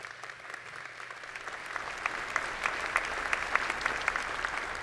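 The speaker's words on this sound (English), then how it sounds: "We should give them a round of applause." Audience applause fills a university assembly hall, a steady wash of many hands clapping at moderate distance that swells slightly toward the end, with no voices over it.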